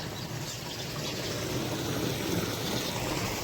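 A steady stream of water rushes and gurgles continuously into a tank, with a constant broadband hiss throughout.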